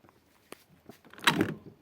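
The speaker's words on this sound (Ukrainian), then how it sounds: "відкривається дверка." A Volkswagen ID4 door with a faulty lock is opened using the mechanical handle. There are a few faint clicks, then a short, quiet latch clunk near the end.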